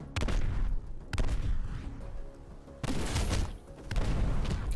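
Video game gunfire in DieselStormers comes as several loud, heavy bursts of blasts separated by short pauses, each bout booming and rattling close by.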